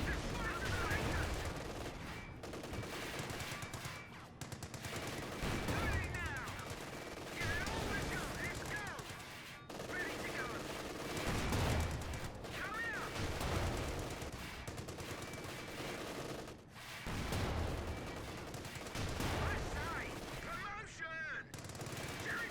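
Rapid tank cannon and machine-gun fire in a Company of Heroes 2 battle as British Firefly tanks shoot at German Panzer IVs, a dense run of loud shots and blasts with quieter voices talking underneath.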